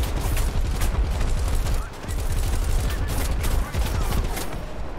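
Rapid bursts of tank and vehicle gunfire ring out in War Thunder, a dense fusillade of sharp cracks and booms repeating loudly over rumbling engine noise throughout.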